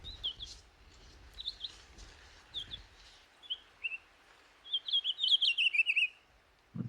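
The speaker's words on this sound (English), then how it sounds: "you will probably see some pine grosbeaks at some point. So I'll let you hear the song." Pine grosbeak song, a series of soft warbling whistled phrases rising in pace toward the end, clear against a quiet background.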